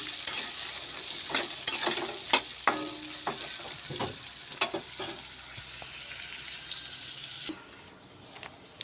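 Chopped onions frying in a pan, a bright close sizzle with rhythmic spatula scrapes and clicks that fade to a quieter hiss near the end.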